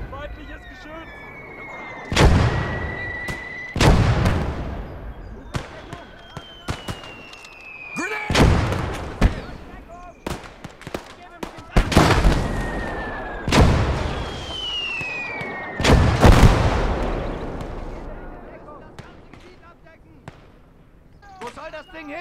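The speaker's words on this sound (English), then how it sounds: "Damn, those mortars are getting too close." Mortar explosions in the WWII game Gates of Hell land near the player: about a dozen sharp, loud booms at irregular intervals, some close together, with whistling tones between them and occasional voices.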